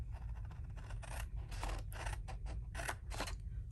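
Scissors cut paper along score lines for a box craft, giving a quick series of soft, close snips and crisp cuts at low volume.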